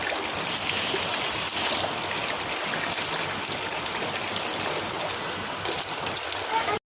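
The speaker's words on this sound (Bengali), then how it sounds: "এত বৃষ্টি হচ্ছে যে কলতলায় যেতে পারছি না" Heavy monsoon rain pours steadily in Rajkot, a dense, continuous hiss and patter close by with no letup, while someone talks faintly beneath it.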